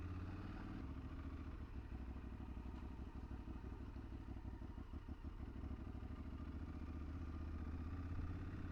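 A motorcycle engine hums steadily and faintly on a ride near Arromanches, France, with a low continuous drone and a few light clattering knocks, no voices.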